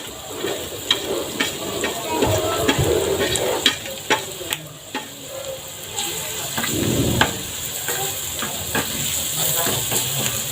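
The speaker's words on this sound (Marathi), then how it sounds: "छानशी फोडणी इथं जमलेली आहे" Spice tempering sizzles and hisses in a clay pan while pithla is being made, a steady frying hiss with scattered crackles and pops, loud and close, with a voice speaking over it at times.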